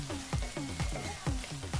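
Garlic fries in a hot pan with a steady sizzle, broken by repeated soft scraping strokes of a spatula at a regular rhythm.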